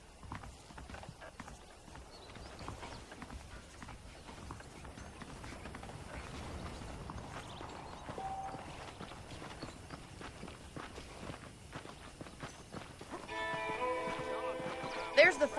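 Quiet, steady hoofbeats clip-clop at a walking pace in Red Dead Redemption, with a brief bright chime near the end.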